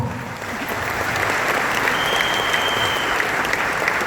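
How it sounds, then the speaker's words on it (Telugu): An audience at a network marketing event breaks into loud, sustained applause. The clapping is dense and even, filling the room for several seconds. "ఈ క్లాప్స్ వాళ్ళకి అక్కడ వినిపించాలి."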